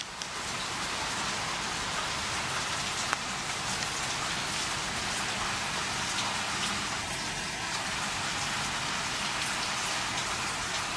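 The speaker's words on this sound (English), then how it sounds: "No more thunder, but now rain." Rain falls steadily in a storm after thunder has passed, a continuous broad hiss of drops on surfaces outdoors, with a faint brief tone midway and no talking.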